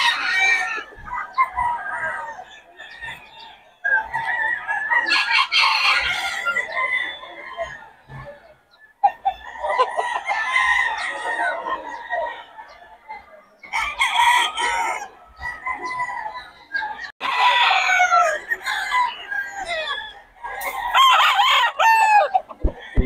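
Chickens cluck and squawk close by in repeated bursts, with a few louder crowing-like calls among them, continuing throughout.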